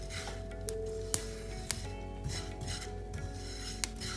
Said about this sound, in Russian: Вы наверняка слышите, как разбрызгивается кунжут